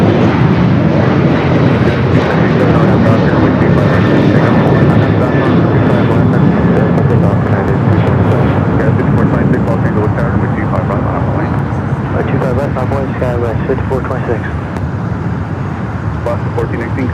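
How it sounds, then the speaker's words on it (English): An Airbus A350-900 departs LAX for Tokyo Haneda with a loud, sustained jet roar that fills the whole stretch, and voices are faintly mixed in beneath it. "A350-900, flight 7 heading to Tokyo Haneda."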